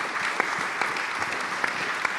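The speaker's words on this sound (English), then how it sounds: "please give the panelists a round of applause" Sustained round of applause for the panelists at a conference session, steady dense clapping from a seated audience throughout, moderately distant with a few sharper claps standing out.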